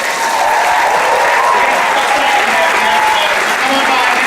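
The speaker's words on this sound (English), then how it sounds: "How about a round of applause for these guys?" Dense, loud applause from a comic convention audience at Wizard World Chicago 2016, steady clapping and cheering sustained throughout without a break.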